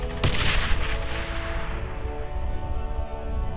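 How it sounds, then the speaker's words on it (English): A sharp gunshot cracks early, followed by a long rumbling explosion-like roar that slowly fades, loud and dense combat audio from the video game Brothers In Arms: Hell's Highway. "Gunshots and explosions pack a real punch"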